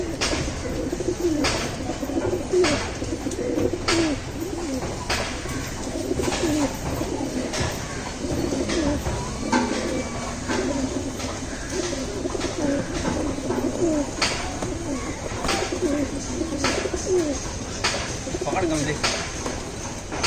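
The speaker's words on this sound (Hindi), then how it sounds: "इलाहाबादी कबूतर है, अच्छे क्वालिटी में।" Allahabadi pigeons coo steadily in a loft, a continuous layered murmur of soft cooing from several birds close by, with occasional wing flutters and someone talking intermittently over them.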